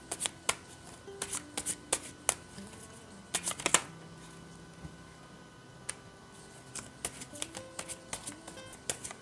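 Tarot cards are shuffled and laid out for a reading, giving close, crisp flicks and taps in irregular clusters over a quiet room.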